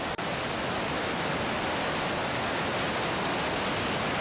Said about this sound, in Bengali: এই জলের ধারাটা দেখো, নিচে চলে যাচ্ছে।